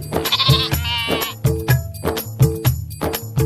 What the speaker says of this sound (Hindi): लेकिन भेड़ें अपनी जगह पर खड़ी रहीं।